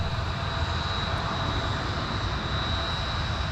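A Delta airliner takes off from runway 17 at Minneapolis–St. Paul airport, a steady, loud jet engine roar with a high whine, continuous throughout without pauses.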